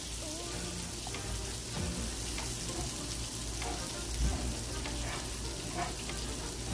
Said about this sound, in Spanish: I'm going to go ahead and add the onion also.